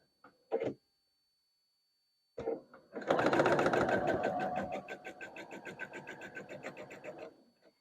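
Sewing machine stitching long quilt block strips together: a couple of short taps, then a steady whirring run of rapid needle clatter lasting several seconds before stopping, close and alone.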